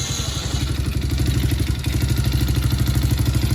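A TaoTao Chinese quad ATV engine runs steadily nearby, a loud, rhythmic clattering idle with a fast even pulse.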